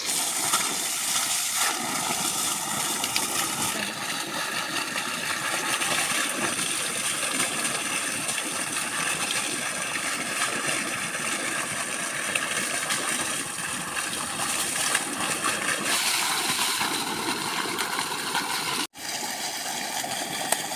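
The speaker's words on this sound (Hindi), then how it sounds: "यहाँ पर अभी धान के खेत में हमारा ही ट्यूबवेल है, इसमें पानी चल रहा है" Water gushing from a tubewell pump into a paddy field, a loud continuous rushing and splashing flow with a faint engine hum beneath, steady for about twenty seconds with no speech.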